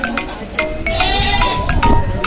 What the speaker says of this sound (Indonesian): Kambing ya guys.